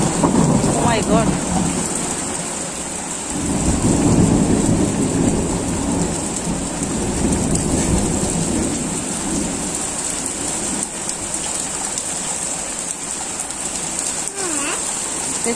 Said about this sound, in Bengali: আজকে প্রচুর বৃষ্টি হইতেছে।